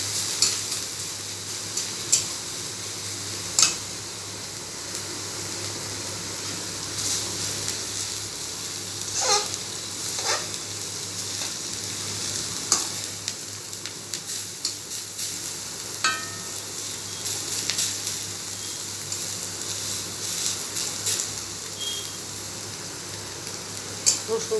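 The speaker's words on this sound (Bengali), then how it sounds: "রসুনটা একটু বেশ ভাজা ভাজা হলে গন্ধ বেরোবে" Chopped onion, garlic and ginger frying in oil in a pan give a steady close sizzle, with occasional scrapes and clicks from stirring throughout.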